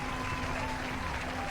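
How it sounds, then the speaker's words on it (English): A dense wash of applause and crowd noise runs steadily for the whole stretch, with no clear voice standing out. "Round of applause for Nick."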